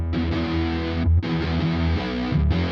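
A heavily distorted synth guitar chugs in thick, gritty bursts in a trap metal style, with a brief gap near the middle before the loud, saturated riff resumes.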